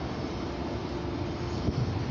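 A steady, broad rumble of a passing CSX mixed manifest freight train rolls on evenly at moderate volume, with a faint clank near the end.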